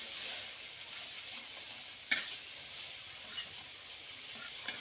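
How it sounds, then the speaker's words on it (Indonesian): A ground spice paste of garlic and curly red chili fries in oil with a steady, close sizzle, punctuated by a sharp spit or stir clatter midway and a few lighter pops. "Kalau masak bumbu halus gini harus benar-benar tanak ya"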